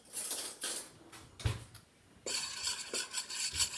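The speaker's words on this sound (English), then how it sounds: "we are going to mix that together" A utensil scrapes and clinks against a pot while black pepper is stirred into a mac and cheese roux, with irregular knocks and scrapes at moderate volume.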